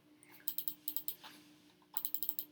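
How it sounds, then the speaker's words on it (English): Computer keyboard keys clicked in quick bursts while building a SketchUp tiny house model: a run of five crisp taps, a short pause, another handful, then a final rapid group of about six, close and clear with no talking. "hit Command G on your keyboard"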